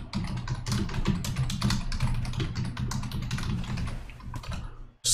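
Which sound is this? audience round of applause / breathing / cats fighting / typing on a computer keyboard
typing on a computer keyboard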